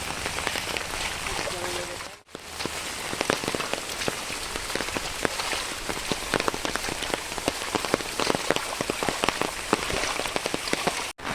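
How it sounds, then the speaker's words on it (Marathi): Heavy monsoon downpour along a highway in the Konkan region, a dense roaring hiss of rain pounding surfaces with sharp drop impacts, loud and continuous apart from a brief cut. "तर आता आम्ही हायवेवर पोचलो आणि पाऊस बघा कसलो मोठ्या मोठ्या लागता"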